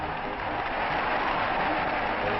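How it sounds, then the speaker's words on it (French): Spectators at a football match applaud the French side, a steady, dense wash of clapping from a large crowd that holds at an even level throughout. "Les spectateurs applaudissent les Français dont la victoire ne fait déjà plus de doute"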